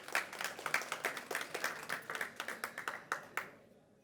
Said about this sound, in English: a very big applause for Miss Margit Hellwig Bötte